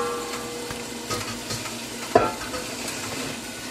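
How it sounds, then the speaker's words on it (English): A spoon stirs rice and peas in a pot, giving soft scraping and faint sizzling close by, with a brief sharper clatter about halfway through and no talking. "And give it a little stir."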